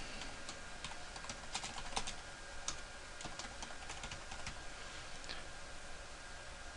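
Steady keystrokes on a computer keyboard while notes are typed into a purchasing form, a continuous run of light, close clicks with a few sharper taps and no talking.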